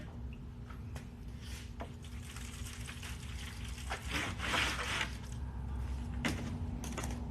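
Water trickles and pours while microgreen trays are bottom watered, a continuous wet hiss broken by soft squishy creaks and a few sharper taps of handled trays, fairly close.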